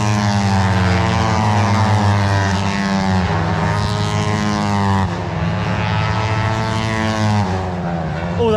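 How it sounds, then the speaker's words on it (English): Superbikes racing at the Brands Hatch circuit give a loud, steady high-revving engine drone with rich layered tones that shift slightly in pitch, unbroken and without talk. "it's absolutely incredible hearing the noises of these bikes"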